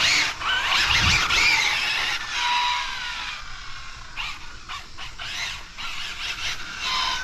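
An Arrma Infraction 6s RC car is driven hard on a hot, humid 81-degree day, its motor whining and tires squealing in loud, repeated bursts that rise and fall as it speeds about.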